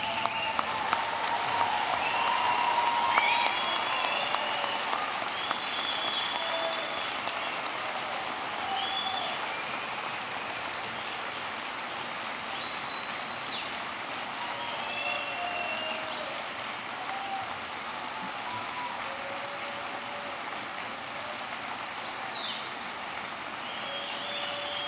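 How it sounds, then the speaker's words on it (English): A commencement audience applauds the graduating class of 2015 at Lebanon Valley's 146th ceremony, a steady, far-spread wash of clapping that holds at an even level for the whole stretch, with scattered voices and whistles faintly over it. "give this class, the class of 2015, a round of applause for what they have accomplished"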